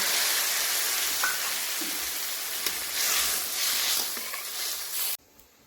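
Water poured into a pan of frying crabs for a spicy oil curry, a loud hissing sizzle that holds steady with faint crackles before cutting off abruptly to near silence.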